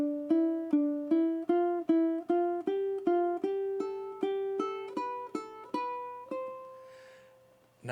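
A steady run of plucked notes climbing a scale, evenly spaced with no pauses between them, ending on a held note.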